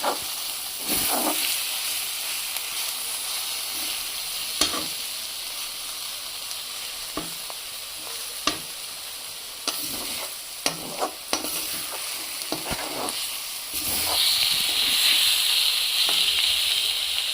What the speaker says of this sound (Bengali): ভালো করে নেড়ে চেড়ে নামিয়ে নেব।